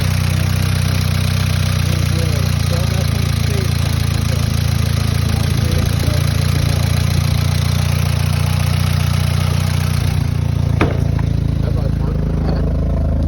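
An air-cooled engine in a $100 Volkswagen Beetle with a faulty exhaust runs at a steady idle, a loud, rough, constant drone with a brief sharp knock near the end.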